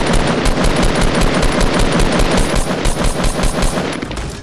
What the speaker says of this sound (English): Oh shit, I'm getting shot from behind.